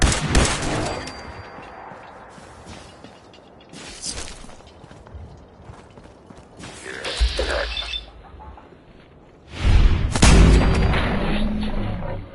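Booming sniper rifle shots in the Fallout 4 video game, a few loud sharp cracks spaced seconds apart over a rumbling, noisy game background.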